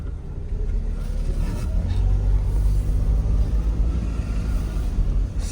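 Car on a test drive, heard from inside the cabin: a continuous low engine and road rumble at moderate level, steady with slight swells, with no talking.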